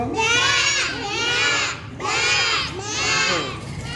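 A group of children loudly imitate sheep bleating, several wavering 'baa' calls in unison, repeated in rising and falling bursts, close by.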